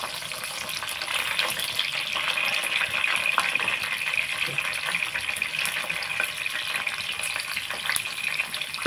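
Ivy gourds frying in hot oil with green chillies make a steady, loud, close sizzle that hisses without a break throughout, with no talking.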